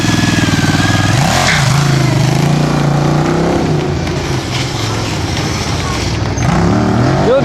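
Sport motorcycles, Suzuki TL1000s and Honda CBR900RRs, ripping past during street stunt riding, loud engine roar with rising and falling revs, close and continuous, with people talking over it.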